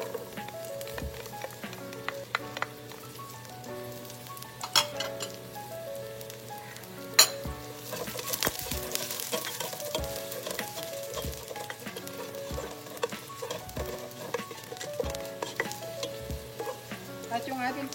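Garlic sautéing in a hot pan, a steady sizzle and frying crackle running throughout, broken by periodic scrapes and clanks of a utensil stirring, with background music playing over it.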